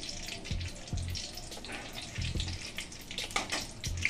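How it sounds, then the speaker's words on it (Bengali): Bay leaves and ghee sizzle in a hot pan of oil as a tempering for chicken lababdar, a soft, close crackle with brief clanks at intervals, no talking. "ফোড়ন দিয়ে দিলাম, তেজপাতা আর ঘি"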